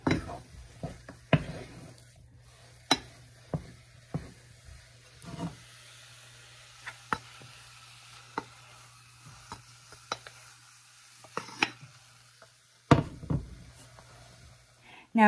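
A flour mixture for cream puffs is stirred constantly in a hot pot, making sparse clinks and scrapes of a utensil against the pot over a faint, steady hum, quiet overall and with no voices.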